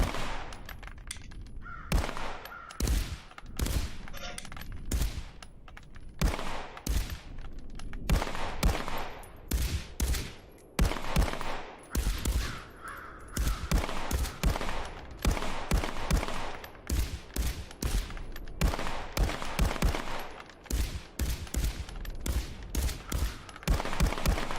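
Repeated gunshots from two modern firearms fired one after another at a shooting range in the VR shooter Contractors VR, a dense run of sharp, loud reports with short gaps between shots.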